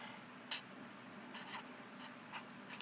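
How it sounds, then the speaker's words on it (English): Pencil scratching across paper while writing a name on a drawing, in quiet, irregular short strokes close by with soft pauses between them. "So, let's write my name,"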